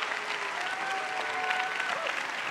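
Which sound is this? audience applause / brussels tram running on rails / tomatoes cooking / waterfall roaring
audience applause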